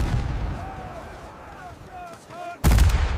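Musket volleys crack in a dramatised battle scene of Maori tribal warfare, loud booming shots under a steady rumble, with a sharp heavy blast near the end.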